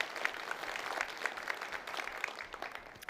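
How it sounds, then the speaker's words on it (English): Quiet scattered clapping from a group at a gala award presentation, a soft patter of hands that thins out toward the end, with no voices over it. "How about we give one more round of applause for Wes?"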